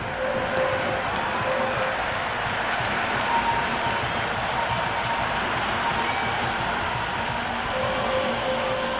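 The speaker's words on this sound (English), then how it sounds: "We listen to that crowd. They are loving this." A large video-game cricket crowd, from Cricket 26, roars and applauds in a steady, dense wash of noise that never lets up, sounding like a packed stadium.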